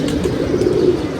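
Pigeons coo in a Lahore loft, a steady, close, low throaty murmur that runs without a break, with faint chirps and wing rustles mixed in.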